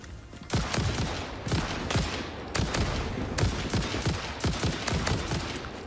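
A weapon fires in the video game Satisfactory as a rapid string of loud shots, coming in quick bursts roughly every half second to a second.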